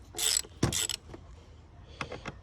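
T25 torque screws are loosened from the air filter housing of a Ford Fusion 1.4 TDCI. Close, loud bursts of ratcheting and a metallic driver scrape are followed by softer clicks, with no talking.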